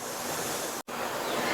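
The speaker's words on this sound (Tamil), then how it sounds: "மறுபடியும் கொஞ்சம் கொஞ்சமாக தண்ணி சேர்த்து அரைச்சிக்கலாம்." Mixer grinder blending roasted peanuts with a little water into chutney, a steady dense whirring roar close up that runs continuously with one brief cut-out midway.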